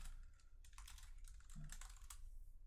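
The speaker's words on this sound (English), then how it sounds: "I just fat fingered the whole keyboard." Rapid clatter on a computer keyboard, a dense run of quick key taps, faint and close over low background hum, with no speech.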